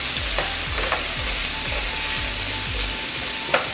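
Mushrooms and peppers frying in a pan for chicken and shrimp hibachi, a steady, dense sizzle throughout with a few faint utensil clinks and a sharper knock near the end, nobody speaking.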